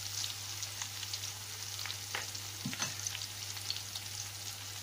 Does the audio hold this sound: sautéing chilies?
yes